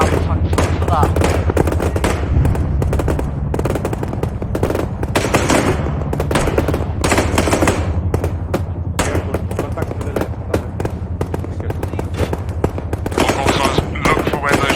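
Sustained machine gun fire in Arma 3 during a live combat operation, loud rapid bursts of automatic shots crackling nearly nonstop over a low rumble, with voices talking over the firefight now and then.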